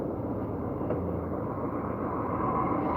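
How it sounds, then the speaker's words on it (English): An Airbus A320 airliner takes off at Heathrow Airport, heard as a steady, distant low engine roar and rumble that holds even and slightly swells toward the end, with no talk. "one is literally taking off right now. Another little A320."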